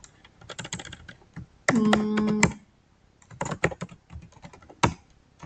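Rapid clicking of keys on a computer keyboard, in bursts with short pauses, plus one brief electronic tone partway through.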